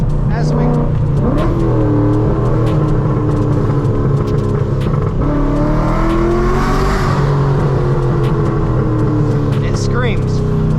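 A cammed Chevrolet Corvette V8 engine revs and screams loudly up close, with rising and falling pitch sweeps and sharp pops, heard continuously with a voice talking over it.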